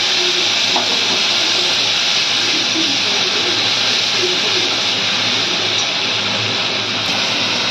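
Turmeric and spices with bay leaf and five-spice hit hot oil for a vegetarian paneer curry, giving a loud, steady hissing sizzle that fills the whole clip with little change.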